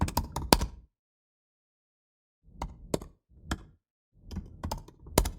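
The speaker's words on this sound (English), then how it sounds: "if I can type" Bursts of keystrokes on a computer keyboard, a quick cluster of taps, a pause of silence, then several more separated clicks and short runs of typing, close and clear.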